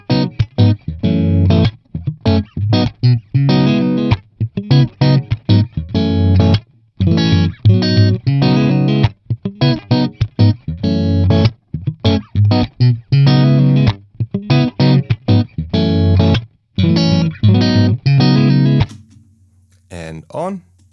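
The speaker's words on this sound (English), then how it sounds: "Okay, now with the reverb off." Electric guitar played through a TONEX amp modeler with the reverb switched off: a loud, driven, distorted riff of tight chords and short stops, dry and close, cutting out near the end.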